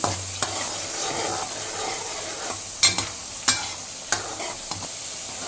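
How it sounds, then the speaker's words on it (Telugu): Green chicken masala frying in oil while being stirred, with a continuous loud sizzle broken by several sharp scraping knocks of the spoon against the pan. "ఇదైతే ఆయిల్లోనే వేయించుకోవాలండి"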